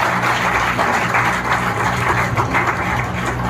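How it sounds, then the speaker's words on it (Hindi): Dense, steady applause from a crowd at a political rally for a municipal council chairperson election, filling the whole stretch at an even level with no clear pauses. "जोरदार तालियों के साथ"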